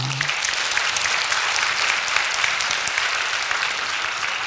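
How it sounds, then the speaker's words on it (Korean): A church congregation applauds during a sermon, producing a thick, sustained burst of clapping at an even level throughout. "하나님께 박수합시다"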